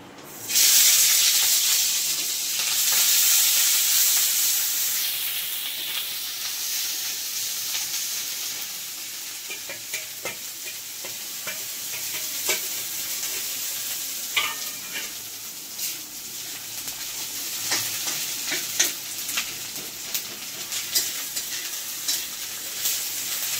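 Onion paste hits a hot pan with a loud, hissing burst of frying that settles into a steadier sizzle, followed by scattered spatula scrapes and taps close by, with no voices.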